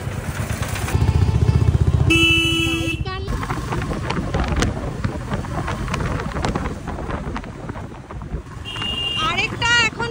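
A motorcycle rides through congested traffic near Sonarpur station road, its engine and wind rumbling steadily throughout, with horn-like tones and passing vehicles breaking in, close and loud.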